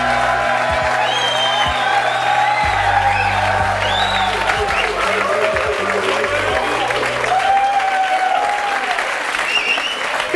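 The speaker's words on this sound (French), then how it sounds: "Je vous demande de les applaudir." A studio audience at a French television talk show applauds loudly and steadily for several seconds, a dense, even roar of clapping with a few whoops and a music bed underneath.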